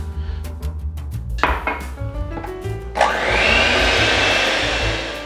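A countertop blender whirs up into a steady, loud, continuous blending of coconut custard cake batter for a 1939 recipe, following some clinks and handling noises of ingredients being added.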